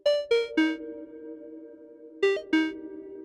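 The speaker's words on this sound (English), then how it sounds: "you can kind of hear it's a little bit spacier, a bit more subtle in these settings" A Lorre-Mill Keyed Mosstone synth runs through a Death by Audio ROOMS reverb pedal: a few bright, bell-like descending notes, then a sustained tone hanging in a spacious tail, and a second short run of notes after a pause. It is clean and moderately loud, with no voices.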